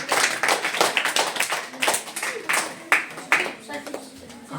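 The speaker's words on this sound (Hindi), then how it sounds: "बहुत बढ़िया, जोरदार ताली बच्चे" Children in a school classroom clapping, a series of uneven, fairly close hand claps in loose rhythm, with some voices mixed in among the claps.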